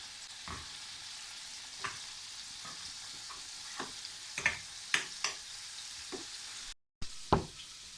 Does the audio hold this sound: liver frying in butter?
yes